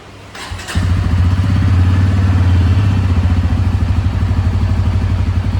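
A Bajaj Pulsar N160 motorcycle engine starts with a short cranking clatter, then catches and settles into a loud, steady, close-up idle with an even pulsing beat.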